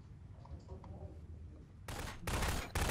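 Bursts of gunfire in the game Prop Hunt: after a stretch of quiet low rumble, two loud broadband volleys of rapid shots, then a brief third burst at the end.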